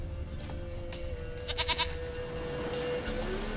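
A goat in The Witcher 3 bleats in a brief wavering cry amid steady outdoor game ambience, with a low rumbling background that swells afterward.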